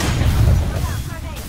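A grenade explosion in a video game, a heavy low boom that swells and rolls off over about a second, close and loud, with a voice speaking around it.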